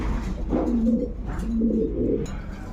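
A big pair of pigeons of Danish, King, Beauty and Damascene breeds coo softly nearby, giving two low, rolling coos in a row against a faint background murmur.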